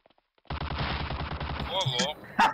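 Video game gunfire in a multiplayer shooter: a sudden burst of rapid automatic shots, loud and close, followed by a couple of single cracks, with player voice chat faintly over it.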